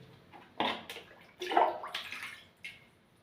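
Water pours from a hose in a toilet, coming in short splashy bursts and sloshes of varying strength, close and moderately loud with pauses between pours.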